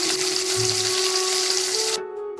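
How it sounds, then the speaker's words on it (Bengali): Fish frying in oil in a pan gives a loud, steady, close sizzling hiss over a low hum, which drops away abruptly near the end, with no talking. "মাছটা আগে ফ্রাই করে নিই।"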